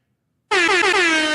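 A loud air horn blasts abruptly after a moment of silence and holds one long, steady, blaring tone to the end.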